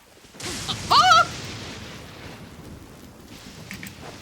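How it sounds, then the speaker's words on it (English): Thunder and lightning on Inazuma island in Genshin Impact: a sudden sharp crack, a loud crashing strike, then a long rumble that fades under steady rain, with faint ringing tones at the end. "They say that the lightning doesn't target the player on this island"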